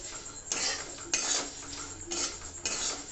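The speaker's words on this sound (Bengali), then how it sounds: "বন্ধ করে দেওয়ার পরও আমি নাড়তে থাকবো, কেননা কড়াইটা গরম হয়ে রয়েছে" A spatula scrapes and stirs puffed rice in a hot wok, giving four rough, rasping sweeps in an even rhythm, close but fairly quiet, with no talk.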